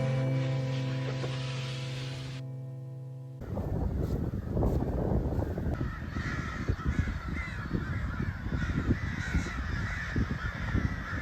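Crows caw outdoors in repeated harsh calls, several birds overlapping at moderate distance, after a brief lull of quieter ambient sound at the start.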